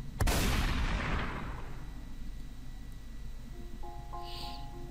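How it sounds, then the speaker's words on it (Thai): A single loud gunshot in a dark Red Riding Hood audio drama cracks sharply and then rolls off in a long reverberant decay, leaving a quiet ambience with faint tones afterward. "เสียงปืนที่ดังลั่น"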